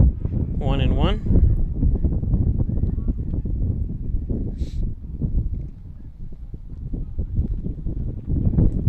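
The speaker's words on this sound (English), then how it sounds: "But wow, the wind is just gusting." Gusty wind buffets the microphone at an outdoor varsity baseball game, a steady low rumble filling the whole stretch while someone talks over it.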